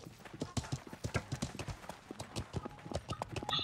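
A horse's hooves clip-clop in the medieval game Life is Feudal, a quick uneven run of close hoofbeats with faint voices in the background.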